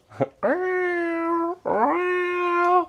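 A person imitates a cat with two drawn-out meows, the second slightly longer, loud and close, preceded by a short vocal blip.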